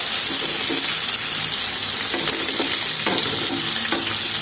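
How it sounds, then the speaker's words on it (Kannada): Onions frying in hot oil for onion sambar, a steady broadband sizzle with soft scraping strokes as they are stirred, close and continuous with no voices. "ಈ ಥರ ಚೆನ್ನಾಗಿ ಫ್ರೈ ಮಾಡ್ಕೊಳ್ಳೋಣ ನೋಡಿ ಇಷ್ಟು ಫ್ರೈ ಆದರೆ ಸಾಕು"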